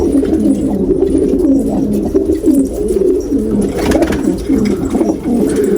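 A crested pigeon coos close and loud in repeated low, throaty phrases that run without pause throughout, with no talk.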